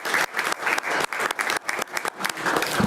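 Audience applause fills a city commission meeting room in Yankton, a steady wash of many hands clapping close by for about three seconds, with brief dips and surges but no break.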